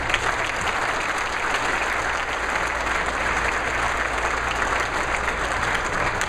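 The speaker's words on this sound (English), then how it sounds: "I also want to give a good applause here, not for my family alone, but for all the families here tonight" Applause from a banquet crowd at a Hall of Fame awards speech, honoring the families present: continuous, even clapping from many hands, filling the room at a steady moderate level with a faint constant hum behind it.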